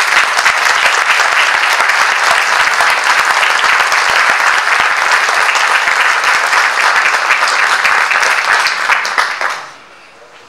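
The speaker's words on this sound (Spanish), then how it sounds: "yo pido un aplauso" Dense, loud audience applause at the launch event for a TV series, steady clapping from a large crowd for about nine seconds before quickly fading away.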